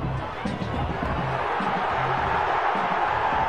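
Eastern Washington football stadium crowd roars in a sustained, dense wash of noise reacting to a disputed play, with voices talking over it.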